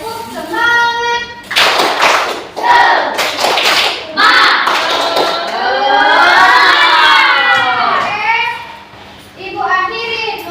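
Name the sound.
group clapping a spirit clap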